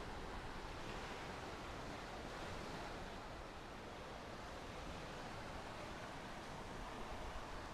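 Steady roar of ocean surf pounding against eroded, cavernous shoreline rock on a Florida coast, a continuous broadband wash without distinct breaks, moderately faint, with no voices.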